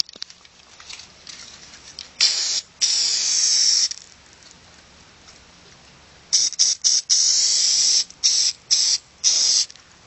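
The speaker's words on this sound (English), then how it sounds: "I glued my first piece on with some spray glue" Spray adhesive from an aerosol can hisses in a run of short and longer bursts while a panel is covered with fabric for a speaker box; sharp, close and loud, with quiet pauses between sprays.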